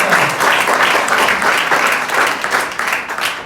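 A church congregation claps together after a sermon passage, a dense, loud, even wash of applause lasting a few seconds with no voices over it.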